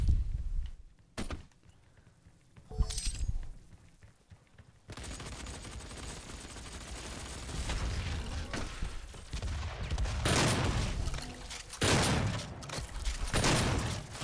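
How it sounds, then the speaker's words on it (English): Gunfire in the Doom Xbox One beta, with both triggers pulled to fire double shots: a few sharp isolated blasts early, then a sustained stretch of loud, rapid shooting and heavy bursts close up. "if you pull both triggers at the same time, it shoots both shots"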